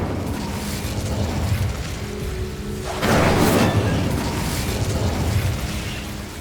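Incendio fire spell cast in Hogwarts Legacy, a loud whooshing fiery burst that swells midway over a rumbling game backdrop, with no talking.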